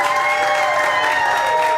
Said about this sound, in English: Start with a light applause.